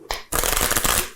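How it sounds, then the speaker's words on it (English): A deck of playing cards being shuffled during a card magic tutorial: a short riffle, then a dense, loud, continuous fluttering burst of card edges lasting about a second, with no talking. "do you want to shuffle the cards anymore?"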